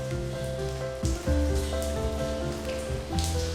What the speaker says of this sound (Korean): 가끔 너무 많은 비가 내리면